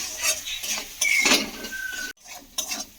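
Spoon stirring salt into a spice mixture in a pan, soft scraping and clinking strokes close up over a faint sizzle, with a short gap before a few final stirs.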